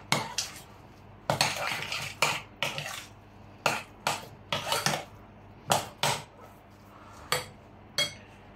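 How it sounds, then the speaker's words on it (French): A spoon repeatedly clinks and scrapes against a bowl while mixing a goat cheese and courgette terrine mixture, a series of sharp, close strokes about once a second with quiet pauses between. "Donc là, maintenant, on mélange bien."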